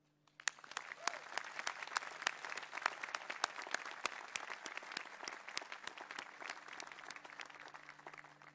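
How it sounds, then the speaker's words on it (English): A college commencement audience breaks into applause, many hands clapping densely and steadily for several seconds, rising quickly from silence and holding at a lively, even level with a faint hum underneath. "we really want to give you a round of applause for making this possible"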